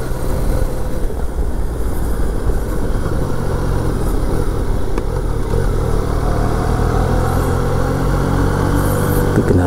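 Motorcycle engine droning steadily and loud throughout a ride on a cold mountain road in Kundasang, with constant wind and road rumble and no clear rise in revs.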